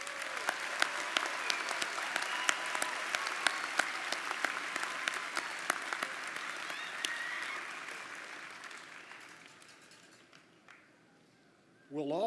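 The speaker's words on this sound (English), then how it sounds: "Will the audience please join me in applauding these honors graduates?" An audience at a university fall commencement ceremony applauds honors graduates, with sustained dense clapping and a few sharp individual claps standing out, gradually fading toward the end before a brief burst of other sound.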